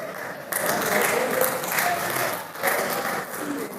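Audience applause at a Hindi comedy show, a steady wash of clapping from a crowd that swells at about half a second and continues with small surges, with some voices and laughter mixed in.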